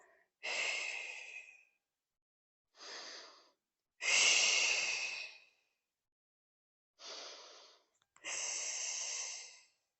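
Heavy breathing during a legs and abs workout, five loud, close breaths in and out with silent gaps between them, each one a rushing airy exhale.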